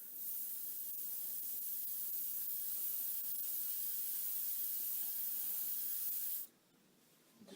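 A steady, fine hiss of an airbrush spraying paint from a small cup runs continuously for several seconds, then cuts off abruptly, leaving quiet background.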